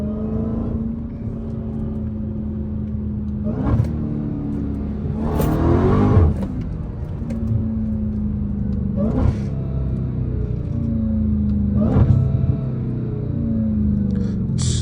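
An 800hp Dodge Hellcat driven hard, a loud deep engine rumble inside the car with several sharp revving surges and whirring acceleration pulls spaced a few seconds apart, no talking.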